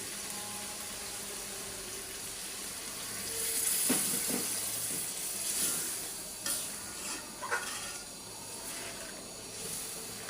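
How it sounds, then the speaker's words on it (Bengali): Hot water poured onto chicken frying in a pan for a spicy chicken curry, giving a steady hiss and wet sizzle with a few sharper splashes and stirs, close and fairly loud throughout. "দিয়ে দিলাম গরম পানি"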